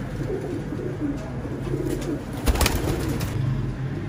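Low, soft cooing of a Teddy Qasoori golden pigeon, a female, repeats in a gentle rhythm close by, with some handling noise and a brief thump midway.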